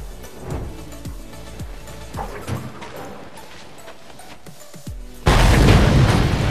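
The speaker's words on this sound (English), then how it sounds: "One blast should split it wide open." Gasoline-fuelled blast splitting a gate open in Mad Max: after a stretch of thumping low impacts, a sudden heavy boom erupts into a loud, sustained roaring rumble that carries to the end.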